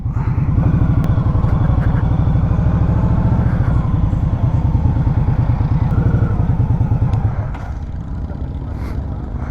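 A 2020 Indian Scout Sixty Bobber motorcycle engine runs loudly nearby with a rapid, throbbing idle that stays steady before dropping slightly toward the end.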